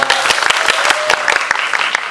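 A cinema audience at a film screening and actor's birthday event gives a loud round of applause, crisp, close clapping from many hands with a voice briefly audible over it.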